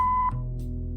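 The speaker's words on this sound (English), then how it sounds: "if you leave your details after the beep" An answering machine in the Kathy Rain 2 game gives a single steady electronic tone lasting about a third of a second, then cuts off into a quiet low hum.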